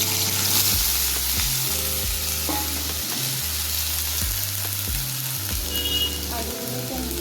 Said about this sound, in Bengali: আলুগুলোকে আমি দিয়ে ভেজে নেব